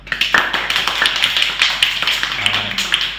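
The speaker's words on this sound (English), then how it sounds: "Give her a round of applause." Audience applause for a performer at a Christmas Eve talent show, a lively round of clapping from a small crowd with scattered cheering, sustained for several seconds.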